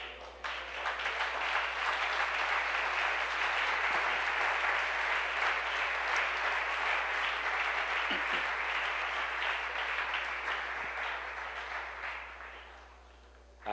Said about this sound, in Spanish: ¿Quieren aplaudir al Señor?